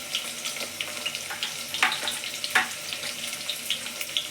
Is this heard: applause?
no